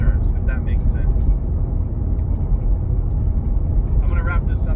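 Road noise inside a moving Corvette C6 Z06 makes a steady low rumble and tire roar that runs throughout, with someone talking over it close to the microphone.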